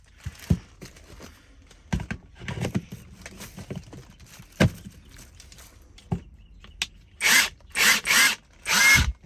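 A Kimo brushless cordless impact wrench on a 2 amp hour battery fires several short, loud bursts of whirring and hammering close by, stopping between runs, after scattered handling clicks.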